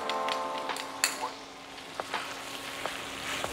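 Prawns drop into hot oil with onions in a frying pan for a Mangalorean coastal prawn curry, giving a steady crackling sizzle with scattered pops and clicks close by.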